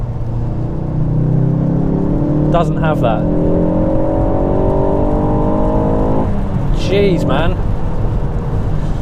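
A tuned 330bhp Mk4 Ford Focus ST accelerates hard on wet roads, the engine rising loud and strained in the cabin through a long pull, a gear change, then another climb, with someone speaking briefly over it.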